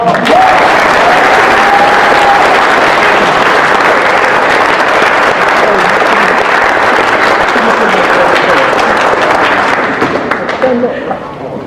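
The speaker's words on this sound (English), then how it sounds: "Y'all supposed to clap." Loud, dense applause fills a Navy chief petty officer pinning ceremony, steady throughout with some voices mixed in, tapering off near the end.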